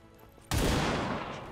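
A single gunshot fires at a trooper in XCOM 2, an abrupt loud crack that bursts in after a quiet moment and decays into a long, rumbling, broadband tail.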